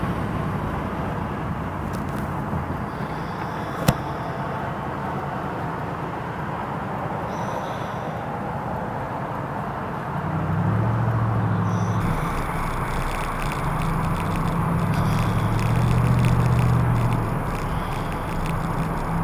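A red 1965 Ford Mustang convertible with GT options drives along, a steady low engine drone and road rumble from inside the car, rising slightly partway through as the engine works harder.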